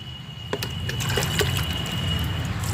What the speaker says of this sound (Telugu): ఉదయం ఈ మట్టి నింపి నీళ్ళు పోసుకుంటున్నాము